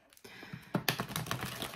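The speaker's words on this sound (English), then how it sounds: "One more shuffle for Sagittarius" Tarot cards are shuffled by hand in quick soft riffling clicks and flutters, close and fairly quiet, with no talking.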